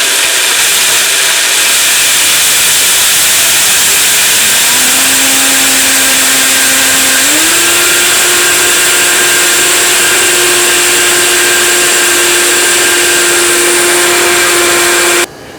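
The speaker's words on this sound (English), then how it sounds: "the next thing I'm going to do is blend my berries" A blender whirs loudly while blending berries for scones, its motor droning steadily, then rising in pitch as it speeds up partway through and holding a high whine before cutting off at the end.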